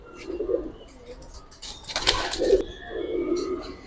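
Giribaz pigeons in a loft, soft low cooing in a few separate bursts, with a brief burst of wing flapping or rustle in the middle and faint background voices.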